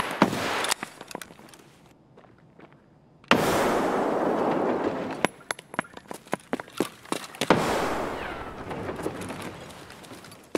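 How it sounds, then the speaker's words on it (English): A grenade detonates in the shooter game Escape From Tarkov with a loud, close blast and a long rumbling decay, followed by scattered sharp cracks and rustling movement, then a second rumbling burst. "I'm gonna throw a nade"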